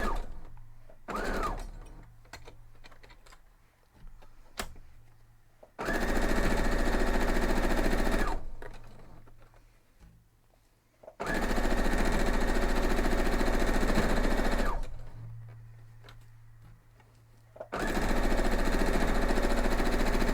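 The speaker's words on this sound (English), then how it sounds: "let's head over to the sewing machine and sew it up." A sewing machine stitches a strawberry patch quilt block in three loud, steady bursts of rapid mechanical whirring, each several seconds long, with quieter pauses of handling and clicks between them.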